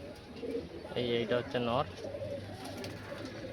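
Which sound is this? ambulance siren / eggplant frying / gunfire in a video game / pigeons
pigeons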